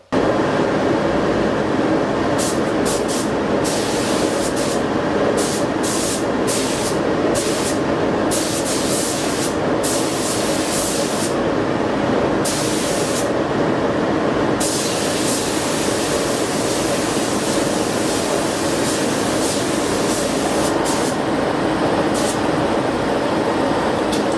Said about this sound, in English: I'll go and turn the spray booth on, and I'll show you how it's done